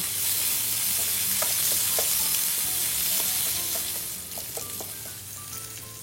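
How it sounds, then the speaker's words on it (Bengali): Chopped onion and dried chillies stir-fried in a pan, a dense steady sizzle broken by scattered spoon clicks and scrapes, easing off slightly toward the end. "নেড়েচেড়ে পেঁয়াজ কুচি আর শুকনো মরিচ দিয়ে দিলাম। 2 মিনিট নেড়েচেড়ে দিচ্ছি।"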